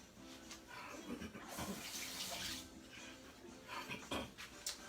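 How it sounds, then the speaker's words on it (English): Running tap water splashes steadily as fingers are rinsed at a kitchen sink while a sweet potato pie is being made, with a soft, continuous rush that swells briefly in the middle. "let me just rinse my fingers so I can put my gloves on this hand"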